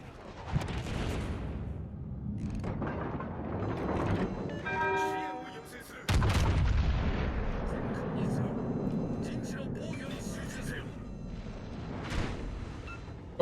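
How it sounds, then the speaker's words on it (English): Naval shell fire and impacts from the IJN Musashi battleship in World of Warships Legends, with heavy booming blasts and rumbling explosions spread across the clip, a sharp hit near the middle, mixed under game noise and someone commentating. "More shells coming from his rear turret."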